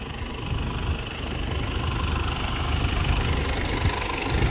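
A roughly 100-horsepower 6310 tractor with a single-leg subsoiler on the back, its diesel engine running steadily at a low idle, a continuous rumbling drone close by with no speech over it.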